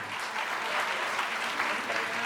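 Audience applauding to welcome a member of parliament at a public event in Delhi about fighting malnutrition, with steady, continuous clapping from a sizeable crowd throughout, no voices over it.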